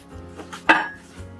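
Deep storage drawers in a teardrop camper slide open, dishes and cutlery rattling with one sharp clinking burst in the middle, close and brief.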